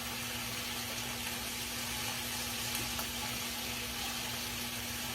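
Yellow gooseneck summer squash cooks slowly in a covered pan, giving a steady, even sizzle and simmering hiss throughout with a faint constant hum and no talking.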